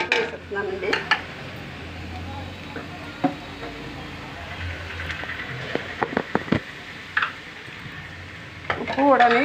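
Sliced onions sizzle steadily in a pan while salt, chili powder and turmeric are stirred in, with a spoon scraping and clinking against the pot at intervals and a voice speaking faintly in the background.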